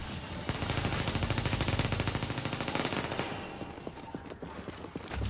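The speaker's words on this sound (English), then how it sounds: "he's shooting at me. Don't shoot at me." Rapid video game gunfire aimed at the player, a steady automatic rattle of closely spaced shots that thins into scattered single cracks toward the end, no talking over it.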